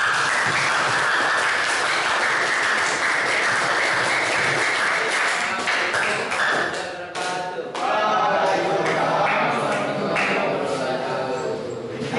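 Audience applause fills a classroom at a school lesson, a steady dense patter of many hands that runs throughout, dipping briefly near the middle before picking up again at full strength.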